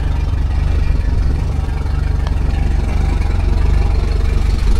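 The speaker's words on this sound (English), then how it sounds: "we just want to make sure that the engine's running okay" A Mercury 115HP outboard engine runs steadily at close range, a loud, even low rumble with a faint whir over it and no voices.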